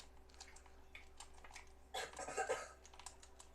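Quiet clicking and tapping on a keyboard and mouse while playing Minecraft, with a denser burst of keystrokes midway, close by and fairly soft.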